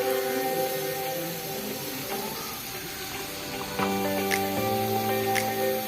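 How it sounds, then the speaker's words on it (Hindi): Vegetables frying in a pan, seasoned with salt and black pepper for chicken fried rice, give a steady close sizzle with some clinking and stirring and a low hum, without talk. "सब्जियाँ हमारी फ्राई हो रही हैं।"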